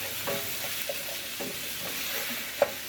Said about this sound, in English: we'll let this sizzle for a little while.